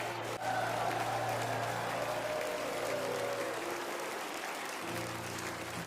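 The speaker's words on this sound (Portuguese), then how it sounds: "Comece a bater palmas. Comece a gritar em nome de Jesus." Church congregation clapping hands and shouting during a live worship service, dense continuous applause with crowd noise filling the room for several seconds.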